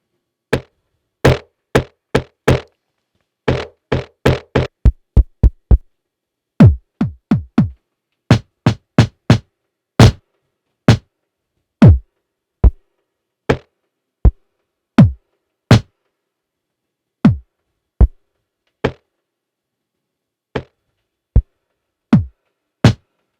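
Sampled percussive hits triggered from an Akai MPC 4000 pad with round robin cycling, a dry series of sharp knock-like strikes alone, first in quick bursts then spaced roughly a second apart, each with a brief decay and slight variation in tone.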